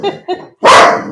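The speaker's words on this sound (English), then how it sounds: "You don't need to bark all the time." A dog barks loudly twice in quick succession indoors, then a long, louder bark or yowl rings out close by, with no talk during it.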